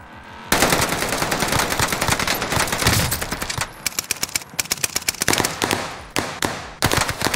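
Rapid automatic gunfire from a video game weapon with heavy recoil, loud sustained bursts broken by short pauses and clipped volleys, no voices.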